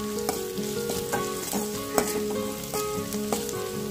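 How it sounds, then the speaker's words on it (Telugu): Thinly chopped green chillies fry in a pan with a steady, close sizzle and repeated stirring scrapes, while faint background music plays underneath. "ఇంకా అవి కూడా వేసుకొని బాగా ఫ్రై చేసుకుందాం."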